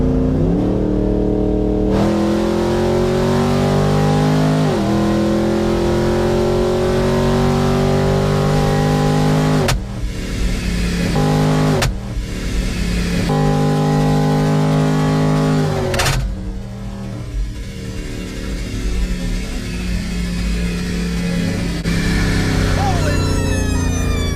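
A car engine revs hard and loud, a sustained roaring drone that rises and falls, cut by a few abrupt breaks before building again.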